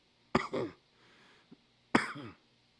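Two harsh, close coughs a little over a second apart, with a faint throat sound between them in an otherwise quiet room.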